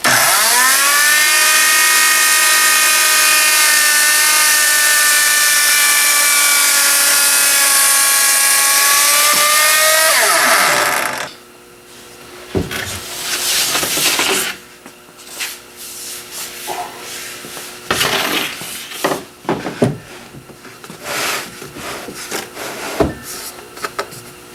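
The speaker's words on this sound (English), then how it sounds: "Let's proceed with our second cut." A power tool cutting walnut wood: a loud, sustained high whine for about ten seconds that drops away as the motor winds down, followed by irregular knocks, scrapes and handling noises at close range.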